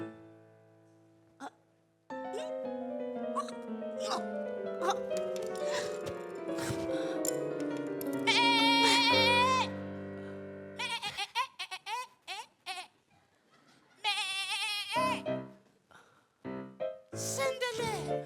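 Bleating sounds, likely a voice imitating a goat, come in long wavering cries and shorter bursts mixed with vocal exclamations over a comedy scene's quiet background.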